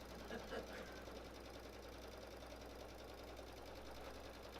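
A sewing machine stitches quilt binding with black thread, a steady, fast mechanical whir and rapid needle patter running evenly throughout at moderate volume.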